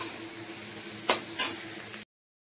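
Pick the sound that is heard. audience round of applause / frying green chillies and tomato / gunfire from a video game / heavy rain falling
frying green chillies and tomato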